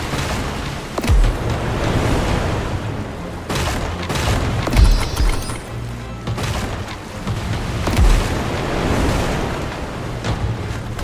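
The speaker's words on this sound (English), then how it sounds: "Fire the cannons!" Ship cannons fire in the naval battle game Pirate Commander, with deep booms arriving every few seconds over a constant roaring bed of sea and battle noise.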